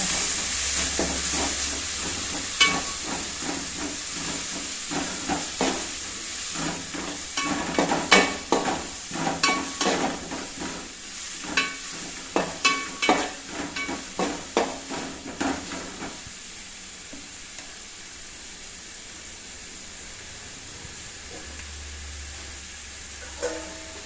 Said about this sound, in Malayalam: നമ്മൾ അരിഞ്ഞ് വെച്ചിരിക്കുന്ന സവോള ഇട്ട് കൊടുക്കാം. ഒന്ന് മിക്സ് ചെയ്യാം.